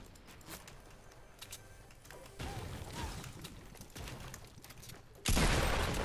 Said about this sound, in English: Boy's trying to shoot me